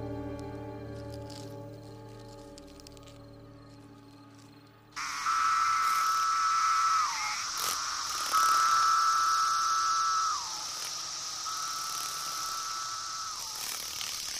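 Periodical cicadas swarming a forest after a 17-year absence, starting about five seconds in as a loud, dense continuous buzzing drone, with long rising and falling pulses repeating over it.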